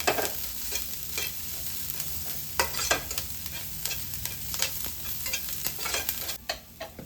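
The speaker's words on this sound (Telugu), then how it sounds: "క్యాప్సికమ్ కూడా యాడ్ చేసేసుకొని కలిపేసుకోవడమే." Capsicum stir-frying in a little oil for a paneer wrap, a steady sizzle overlaid with repeated scraping and tapping of a spatula against the pan, close and fairly loud.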